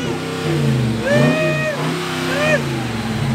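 An engine revs on a faulty truck with a rising and falling mid-pitched whine, pushed up twice in strong surges, while people talk loudly over and around it.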